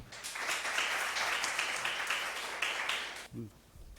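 Audience applause after a student presentation at a student monitoring group results-sharing event, a steady wash of clapping lasting about three seconds before stopping abruptly, moderately loud and close.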